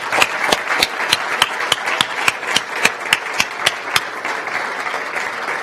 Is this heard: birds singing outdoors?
no